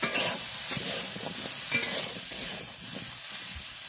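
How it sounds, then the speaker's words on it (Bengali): Potatoes and vegetables fry with salt and turmeric in a pan, a soft continuous sizzle overlaid by brisk, close scraping stirs of a spatula, with no talking. "সামান্য লবণ আর হলুদ দিয়ে ভালো করে ভাজবো"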